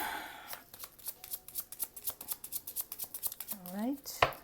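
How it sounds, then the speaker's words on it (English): Tarot cards riffle and snap in quick rhythmic bursts close up, shuffled and then cut into three piles, ending with a brief rising voice and a sharp tap. "I'm gonna do a 3-card cut"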